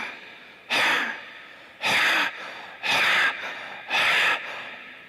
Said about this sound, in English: you must get the sound by making a constriction in your throat like this